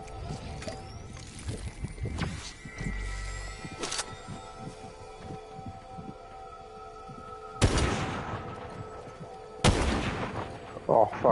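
Sniper and rifle fire in Fortnite: repeated heavy booming shots with echoing tails, a couple of loud close blasts later on, mixed with game sounds and brief voice.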